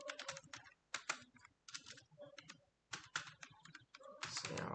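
Code being typed on a computer keyboard in bursts of quick, close key clicks separated by short pauses, fairly quiet with no talk.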